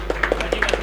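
An audience at a mushaira claps in a brief, sparse burst of individual hand claps at a steady pace, close and fairly distinct, with no voices over them.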